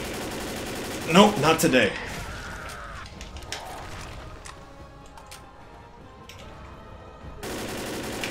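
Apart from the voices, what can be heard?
gunfire in the video game Left 4 Dead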